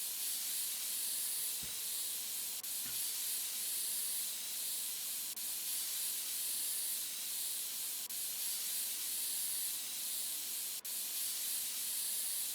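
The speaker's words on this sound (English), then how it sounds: "Let's get it blown out with some really loud compressed air" A can of compressed air sprays a long, steady hiss of dust-clearing blasts into a filthy PC case in the PC Building Simulator game, loud and continuous with a few faint clicks.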